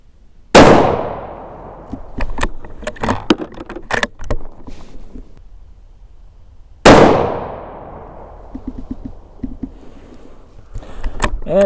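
Two loud, sharp rifle shots from a Weatherby Vanguard in 6.5 Creedmoor fitted with an MDT chassis, each ringing out and decaying. Bolt-action clanks and rattles follow between the shots.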